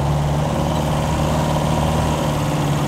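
Steady, loud low engine drone of a Unimog U411 Cabrio as it pulls away, running evenly and continuously with no talking.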